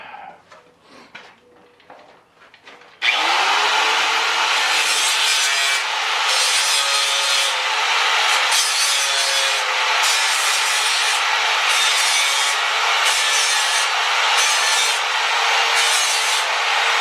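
An angle grinder works over a welded patch in a car floor pan, a loud continuous abrasive grinding with a few brief dips in pitch, heard alone after quieter handling sounds at the start.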